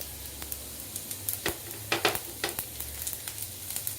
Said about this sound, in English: roast these till you get a nice aroma and the color of dal changes to light golden. Stir this.